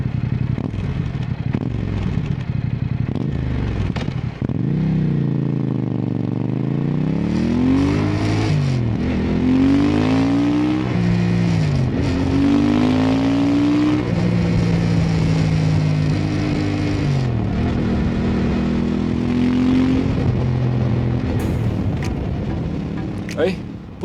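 A Fantic Caballero 500 scrambler motorcycle engine revs loudly and close up, its pitch climbing and falling through repeated throttle blips and sustained pulls, with a brief voice heard over it.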